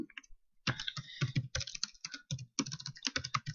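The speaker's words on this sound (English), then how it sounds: "this is when you want to type a note" A computer keyboard is typed on in quick, close bursts of clicking keystrokes while a note is written in an office setting, with brief pauses between the runs and no voice over it.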